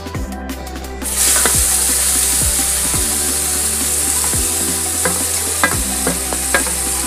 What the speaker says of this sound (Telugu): ఇప్పుడు కట్ చేసిన ఆనియన్ ఇందులో వేసేద్దాం.